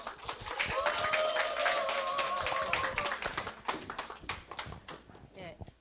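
Clapping from a seminar audience at a Saturday business conference, welcoming a senior manager to the stage, sustained and moderately loud with scattered claps and overlapping voices talking above it.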